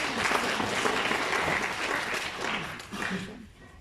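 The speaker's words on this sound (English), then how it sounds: "We should give that a round of applause." Audience applause at a corporate presentation: a dense, steady wash of many hands clapping that holds strongly, then thins and fades toward the end.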